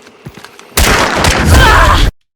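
A gunshot in Hunt: Showdown bursts in loudly after some quiet faint shuffling, with a harsh, noisy blast sustained for over a second before cutting off abruptly into silence.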